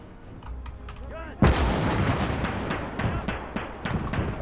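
Howitzer artillery in the video game Gates of Hell: Liberation fires with one loud, close boom partway through, then a long rumbling tail and scattered distant shots continue under the battle noise.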